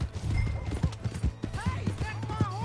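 Horse hooves clip-clop in steady rhythm in a Western-style video game, close and moderately loud, with short calls and game sounds over them.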